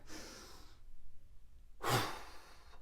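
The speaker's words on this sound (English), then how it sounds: "I take a minute or two, I breathe. I mean, really breathe. Deep in" A deep breath drawn in and let out slowly, close and quiet, the exhale a brief soft rush of air like a sigh, with a pause between.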